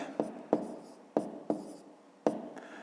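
Pen or pencil writing numerals by hand on paper, five distinct strokes with scratchy onsets fading between them, close and fairly quiet with no talking.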